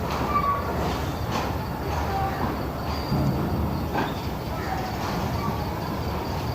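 A long passenger train moves through Karachi Cantt station with a steady rumbling roar and faint rail clatter, continuous and moderately loud, at times with a light higher squeal.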